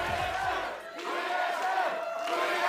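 A large arena crowd at a North American League of Legends esports match, Immortals versus TSM, roars and chants steadily in support of TSM, a dense sustained wall of many voices with a brief dip near the start.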